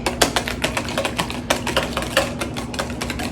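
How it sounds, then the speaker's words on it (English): A whisk beats one egg for cheese sauce, making quick, steady metallic clicks and taps against the bowl, close and fairly loud with no voices. "Whisk that up."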